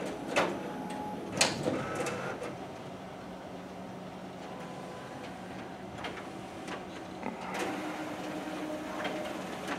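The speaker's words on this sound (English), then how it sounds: "There goes our test copy stapled to the document feeder." Xerox WorkCentre 7120 copier running a test copy and stapling it, a low steady mechanical hum broken by several sharp clicks and clacks, moderately quiet and close.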